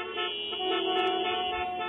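A car horn sound effect plays on a livestream, one sustained honk held steadily for about two seconds, loud and alone with no talk over it.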